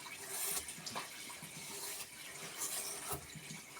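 Hot water runs steadily from a tap, a continuous broadband rush and splash with small fluctuations, close and alone with no voices.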